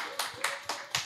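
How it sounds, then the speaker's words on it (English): Four quick, evenly spaced hand claps close up, sharp and crisp, in a short burst at a talk show. "All right, so clap it up."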